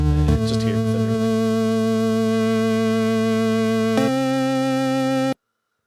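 A dry synth track with no tremolo or reverb plays sustained, steady tones with a bright flurry near the start and a chord change about two-thirds through, then cuts off abruptly to silence.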